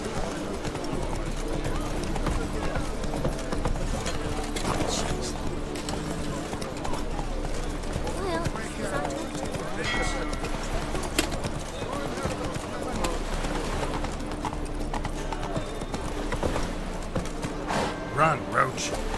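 Roach, the horse in The Witcher 3: Wild Hunt, gallops with steady hoofbeats under continuous game music and ambience, while a person talks over the top throughout.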